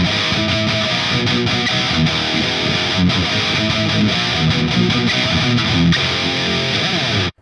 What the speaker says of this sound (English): if we turn off the reverb and the chorus, this is what we get